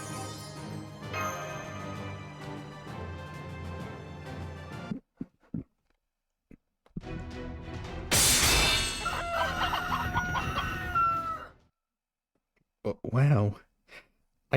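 A rooster crows loudly in the Fate/Grand Order video game during a summer Hawaii-themed event, a strained cock-a-doodle-doo with clucking, set between stretches of game music and sound effects.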